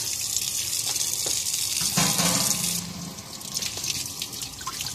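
Tap water runs steadily into a sink while rice paper sheets are soaked under it, a broad close hiss that shifts and softens partway through as the sheets move in the stream.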